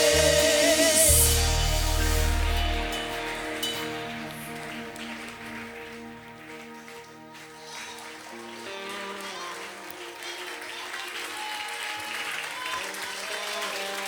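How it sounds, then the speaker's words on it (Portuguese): Church congregation clapping at an Easter cantata, a dense sustained burst of applause that fades gradually under music and a voice. "aplauda o Senhor com mais força, com mais alegria"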